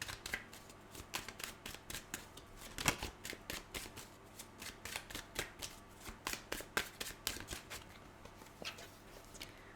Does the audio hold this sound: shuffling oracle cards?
yes